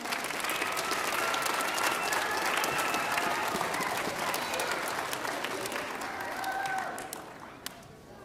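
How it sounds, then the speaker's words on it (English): An audience at a Tae Kwon-Do Christmas party breaks into a long round of applause, dense clapping that fills the room and fades out toward the end. "Give them a big round of applause."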